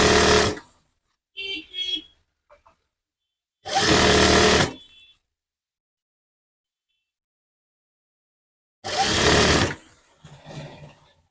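Sewing machine stitching a kurti seam cut from an old sari, three short loud bursts of close mechanical whirring separated by silence, with a few faint clicks between.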